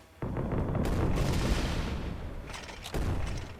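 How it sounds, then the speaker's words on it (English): Bombs exploding in the video game Quarantine Zone: The Last Check, a sudden loud blast that rumbles on for over two seconds, then a second heavy burst follows near the end. "Could always do the bombs, too"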